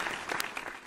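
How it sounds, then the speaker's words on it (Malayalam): A short burst of studio-audience applause for a script writer during a televised Malayalam program, a brief, dense wash of clapping at moderate loudness. "അദ്ദേഹത്തിനൊരു നല്ല കൈയടി തന്നെ കൊടുക്കണം"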